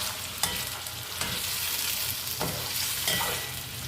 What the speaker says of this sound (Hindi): अब इसके अंदर हम स्पून से मिक्स करते हैं।